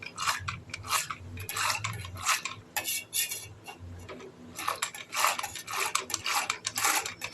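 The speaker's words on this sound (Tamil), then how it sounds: "நல்லா அப்படியே நுரப்பொங்க கடையணும்" A hand churner whisks milk into froth, giving a rapid rhythmic rubbing and swishing that comes in quick bursts, close and fairly loud, with brief pauses between strokes.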